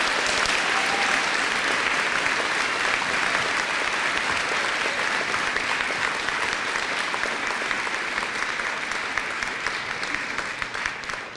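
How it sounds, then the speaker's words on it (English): Sustained, loud applause from a school graduation audience fills the space evenly, a dense wash of clapping that carries steadily throughout with no talk over it. "Let's give her a rousing applause, for God's sakes."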